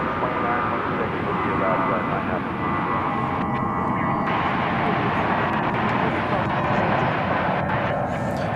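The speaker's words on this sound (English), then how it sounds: "this is takeoff" Airliner on a Dallas Fort Worth runway during its takeoff roll, a loud steady engine roar and rumble that fills the whole stretch without letting up, with faint voices underneath.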